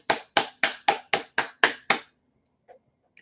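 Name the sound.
audience clapping for Kelly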